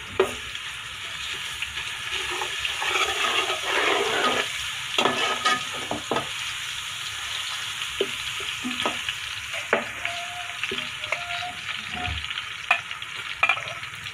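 Garlic paste fries for chana dal biryani in a hot pot, a loud steady sizzle with bursts of crackle and clinks of a spoon stirring against the metal, close and uninterrupted by speech.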